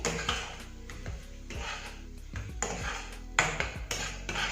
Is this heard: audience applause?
no